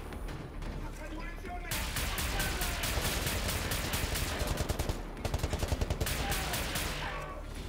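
Rapid automatic gunfire in the shooter game Wolfenstein: The New Order crackles in long, fast bursts with a heavier volley near the end, loud and close over a rumbling game backdrop.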